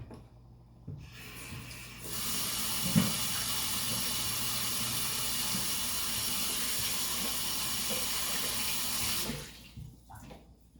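Steady running water in a kitchen sink as cooked vegetables are drained and cooled for a Greek dish of potatoes and peppers. The rush holds at a constant level for about seven seconds, then stops.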